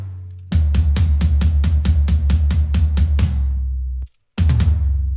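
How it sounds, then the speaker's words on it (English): Processed toms from a song mix roll in a fast run of about a dozen booming, resonant hits, deep and loud up close. A brief silent gap follows before a few more quick strikes. "Now we got some toms, which sound like this with processing."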